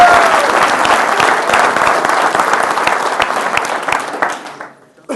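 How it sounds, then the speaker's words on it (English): An audience at an entrepreneur leadership talk gives a big round of applause, loud, dense clapping that holds steady and then tapers off abruptly near the end. "Let's give her a big round of applause."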